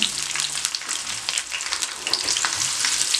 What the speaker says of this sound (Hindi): इसको हल्का सा फ्राई कर लें।